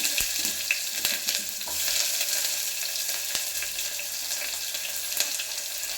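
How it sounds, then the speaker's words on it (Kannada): Chopped onion hitting hot oil already crackling with mustard seeds and curry leaves, a bright continuous sizzle with scattered pops and faint stirring while sambar is being made. "ಈರುಳ್ಳಿ ಹಾಕ್ತಾಯಿದ್ದೀನಿ"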